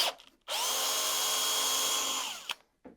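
A power drill bores holes through clamped wood and into plastic, the motor whining steadily for about two seconds at close range before stopping, with brief clicks around it.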